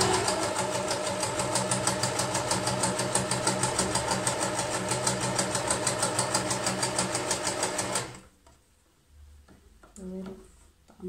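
Close by, a sewing machine hums steadily through a straight or zigzag stitch after the presser foot drops, running loud and even for about eight seconds before stopping, followed by soft handling noises.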